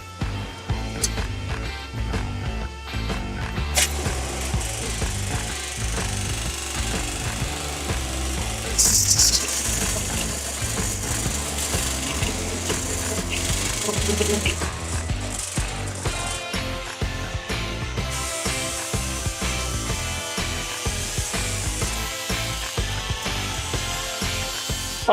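A power tool cuts and trims a fabricated sheet-metal vent panel for a rebuilt Hoonicorn car, giving a loud, continuous grinding whine with uneven bursts and a brief hissy spray-like stretch, close up with no talking.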